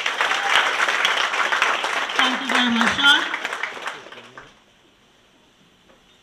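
Audience applause at a secondary school graduation ceremony, a steady wash of clapping for about four seconds that fades out, with someone speaking briefly over it near the end.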